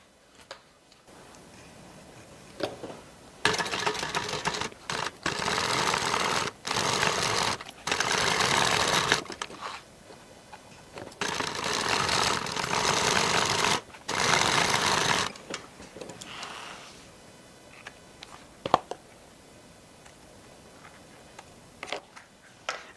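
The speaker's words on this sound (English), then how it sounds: "from here we're going to stitch the side edges down, of course using a 1/2 inch seam allowance again." A sewing machine stitching down the side edges of an evening bag made from a clutch, running in several bursts of steady rapid whirring with short pauses between them and a few light clicks.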